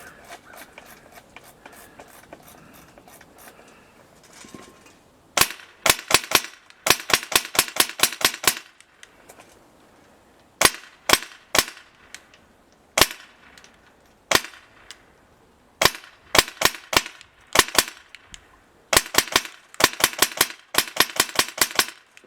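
An airsoft gun fires BBs on semi-auto during a shooting test, feeding from stick and drum magazines: loud, sharp snapping shots in quick irregular clusters with brief quiet gaps, and no talking.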